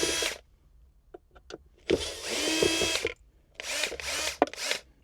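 A power drill whirs in several bursts while unscrewing screws from an Infiniti Q50 armrest, one long run and a few short ones, with small clicks and rattles between, close and fairly loud.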